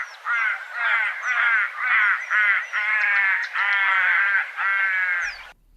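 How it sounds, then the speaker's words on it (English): Little crow calls: a series of about eight loud, clear, nasal, harmonic caws, evenly spaced and close, alone with no talking, ending abruptly. "And this is the little crow."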